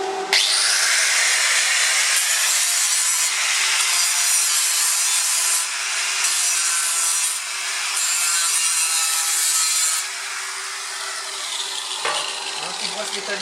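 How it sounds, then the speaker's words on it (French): An angle grinder dresses the top weld bead on a butt-welded cornice joint made by MAG welding, giving a loud, close, continuous grinding whine with slight changes in pressure and a brief break near the end, with no talking. "je mets un petit coup d'un disqueuse sur le cordon du haut"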